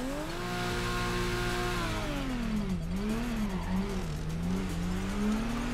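BMW M4 drift car engine in the video game Torque Drift, revving hard and holding a high steady whine, then dipping and surging through wavering revs as it slides, loud and continuous with no talk.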